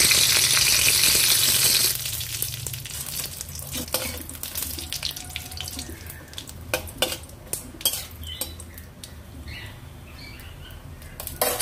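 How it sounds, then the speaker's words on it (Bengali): Dried red chillies, panch phoron and a bay leaf hit hot oil in a pan, a loud sizzle at first that settles into quieter crackling with clinks of a spatula against the pan. "এরপর দিয়ে দেব শুকনো লঙ্কা, পাঁচফোড়ন আর একটা তেজপাতা।"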